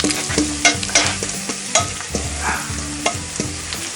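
Onions and garlic sizzle in a cast iron pan alongside shrimp, a steady close frying hiss broken by repeated scraping stirs and clacks of a utensil, with no voices.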